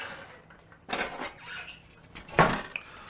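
Metal hot tent stove being set up, a few sharp clanks and scrapes of sheet metal parts with quiet pauses between, the loudest clatter coming late.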